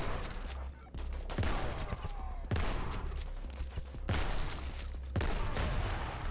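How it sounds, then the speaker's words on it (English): Explosions in the video game Krankenheit: a series of heavy booming blasts at roughly one-second intervals, rumbling low and loud with crackling debris between them. "Explosions."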